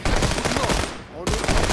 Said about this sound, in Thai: เปิดฉากยิงกันเลย